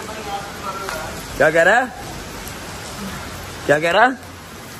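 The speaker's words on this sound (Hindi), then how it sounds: "बारिश तेज़ हो रही है यार, बारिश तेज़ हो रही है" Heavy rain pours steadily outdoors as a constant loud hiss, while a voice breaks in twice over the downpour.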